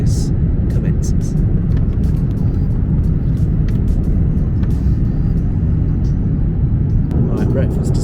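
Steady, loud cabin roar inside a Vietnam Airlines Airbus A350 in flight, a dense low rumble of engines and airflow that stays constant throughout, with a few faint clicks and rustles near the listener.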